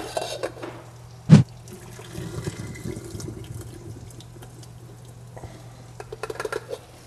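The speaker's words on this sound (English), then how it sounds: "So we're going to drain the water off." Water is drained off boiled food in a pot at a kitchen sink: a sharp clank, a low running wash of liquid, then a cluster of splashing clatters near the end.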